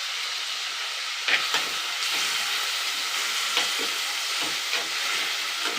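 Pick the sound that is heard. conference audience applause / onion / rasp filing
onion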